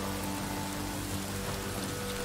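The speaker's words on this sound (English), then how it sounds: "I love the rain, too. It's coming down so hard." Heavy rain pours steadily in a film scene, a quiet, even hiss of drops on surfaces with no break and no voices.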